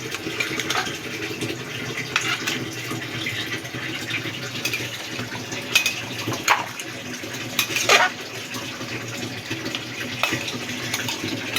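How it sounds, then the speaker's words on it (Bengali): Chicken curry masala with water added is stirred in a pot, a sloshing, watery churn with scattered clinks and scrapes of a spoon against the vessel, continuous and close, without speech. "জলটা দিয়ে ভালো করে নাড়িয়ে নিচ্ছি যাতে মশলাগুলো জলের সাথে ভালো করে মিশে যায়"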